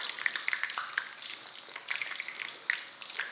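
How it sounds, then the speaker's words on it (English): Sopaipilla, a flour tortilla dough, fries in hot oil with a soft, steady crackling sizzle, dotted with small sharp pops, fairly quiet and close. "I'm going to put it in the oil. So be very careful when you put it in the oil."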